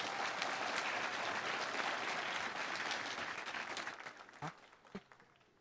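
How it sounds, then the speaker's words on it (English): Audience applause at an elementary school awards ceremony, a dense, sustained wash of many hands clapping that thins out toward the end into a few last scattered claps. "Let's give them a huge round of applause"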